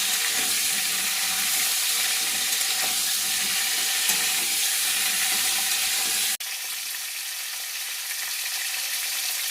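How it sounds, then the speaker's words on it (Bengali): Cauliflower fries in hot oil with garam masala, a steady bright sizzle, loud and close, that drops abruptly in level partway through and then continues more evenly. "গরম মশলা ফোড়ন দিয়ে ফুলকপিগুলো দিয়ে একটু লাল লাল করে ফুলকপিগুলো ভেজে দেবো"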